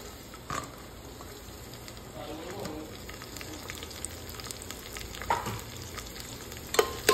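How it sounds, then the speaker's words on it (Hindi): Onion frying in a pan until golden, a soft steady sizzle with faint stirring scrapes and a few louder clicks near the end. "आता कांदा आपला गोल्डन होईपर्यंत आपल्याला फ्राय करून घ्यायचा"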